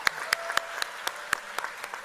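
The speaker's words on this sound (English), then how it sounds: "think that deserves another round of applause" Sparse, scattered clapping from a graduation ceremony audience after a jazz ensemble performance: about nine distinct, crisp claps spaced irregularly over a faint background, fairly close and moderately loud.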